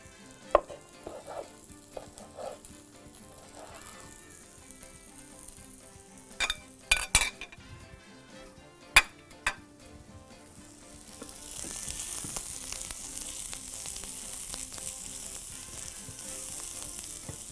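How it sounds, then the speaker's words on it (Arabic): Onions frying in hot oil for an Egyptian sausage sandwich, a soft steady sizzle with scattered clinks and scrapes of utensils against the pan, then a louder, denser sizzle building over the last few seconds. "بنسخن شويه زيت، هنحط فيه البصل،"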